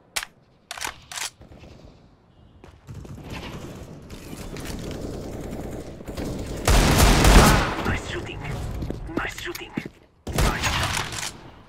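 Gunfire from Counter-Strike: Global Offensive gameplay, several sharp shots and bursts scattered across the clip, some loud and close, with quiet stretches and faint voices in between.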